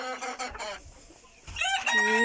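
A naked neck hen, a broody Transylvanian Naked Neck, gives a few close, strained clucks and short squawks in two bursts separated by a brief lull.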